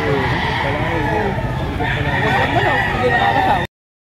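Chickens and a rooster at an outdoor market in Lipa, Batangas, with crowing and clucking running over a constant bustle and nearby voices, then cutting off suddenly near the end.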